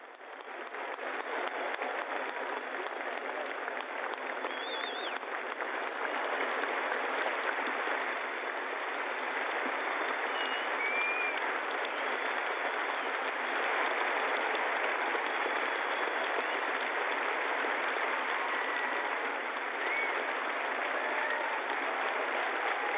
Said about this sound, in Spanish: El aplauso se prolonga,